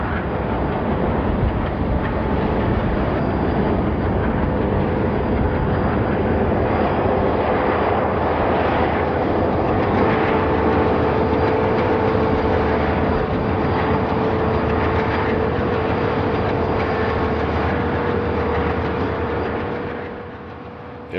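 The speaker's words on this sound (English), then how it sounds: "These Reading transfer trains are on the Pennsy tracks crossing Cove Road." Reading Railroad transfer trains rolling over Pennsylvania Railroad tracks at the Cove Road crossing, giving a steady, loud rumble with a sustained tonal whine throughout and wind buffeting the microphone, fading slightly at the end.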